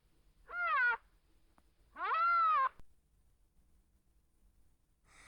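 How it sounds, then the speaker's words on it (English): A rhinoceros hornbill gives two loud, nasal, wailing calls, the second longer, spaced by a second of near silence. "the right answer is the rhinoceros hornbill"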